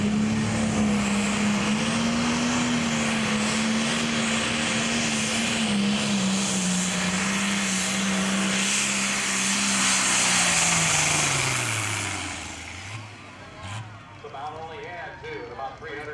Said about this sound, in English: you can hear engine RPM starting to come down